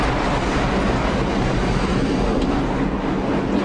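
A subway train roars along in a loud, continuous rumble and rushing wind, heard up close from between the cars with little change across the stretch.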